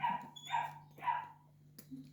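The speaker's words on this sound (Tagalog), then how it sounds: "Kulit talaga nitong mga tuta na to." Several puppies bark and yip in a quick series of short, fairly close calls, with a steady low hum underneath and a brief sharp click near the end.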